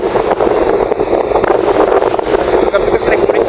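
Typhoon Tino's violent wind roars through Biliran, a loud, unbroken rushing buffet that hammers the microphone throughout the moment.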